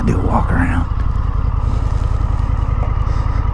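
An Indian FTR1200 motorcycle sits at idle with a steady, low, loping engine rumble, close by and constant, while someone talks over it and a brief scrape or clatter comes at the start.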